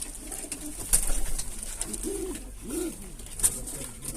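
Pigeons in a coop give soft, low cooing calls in short rolling bursts, fairly faint, against a quiet outdoor background with an occasional faint click.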